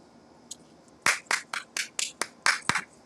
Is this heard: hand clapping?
yes